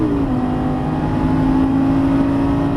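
A Lamborghini Gallardo Superleggera LP570 engine at full throttle, a loud sustained droning roar heard from inside the car with pitch holding high and steady, no speech.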